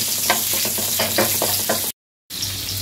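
Garlic frying in hot cooking oil, a steady close sizzle with stirring scrapes at a regular pace, briefly cutting to silence before the hiss resumes.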